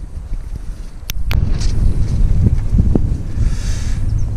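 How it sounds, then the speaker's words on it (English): Wind gusting across a carp fishing lake, rough low rumbling buffeting against the microphone that starts light and builds into a strong, sustained roar, with a few sharp knocks near the start. "The wind is getting up and it feels really, really cold."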